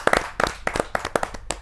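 An audience claps in welcome for a poet, Rasik Gupta, at a Hindi kavi sammelan. A few hands give sharp, separate claps at an uneven rhythm, close by and short-lived, with no voices heard.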